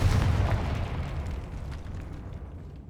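A Confringo blasting-spell explosion in Hogwarts Legacy: one loud booming burst with a heavy low rumble that slowly decays over a few seconds, no talk.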